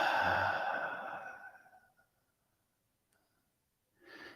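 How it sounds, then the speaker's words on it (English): A deep inhale and slow sighing exhale during a guided heart-focused breathing exercise, loud and close, fading into silence before another breath begins. "Deep inhale into the heart."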